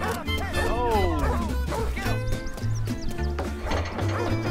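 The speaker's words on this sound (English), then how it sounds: "Dog." Dog barks ring out in a 1930s-style crime video game, several sharp yips close together amid a busy scene of music and voices, with people talking over them.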